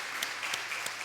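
Brief, quiet applause from a church congregation at a Sunday service, a few distinct claps standing out from a faint patter.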